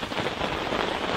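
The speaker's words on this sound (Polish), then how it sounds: "jak przestanie trochę padać, bo nie wyjdziemy z kamerą na ten deszcz" Steady rain pouring down at a lakeside fishing spot in Jeziory Wielkie, a dense continuous hiss of drops hitting surfaces, close and even throughout with no voices.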